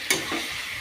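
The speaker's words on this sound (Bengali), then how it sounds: "এভাবে আমি মাংসটাকে কষে নিচ্ছি" Mutton being sautéed with light spices in a pan, a short close burst of sizzling and frying with a quick stirring scrape, no voices.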